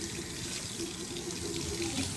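A kitchen tap runs steadily as salmon is washed under it, giving a constant close splashing hiss with no pauses.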